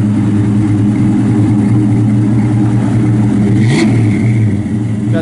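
A 1957 Chevrolet Bel Air two-door post with its engine droning loudly and steadily while driving, a low rumbling hum with a brief rise in revs partway through.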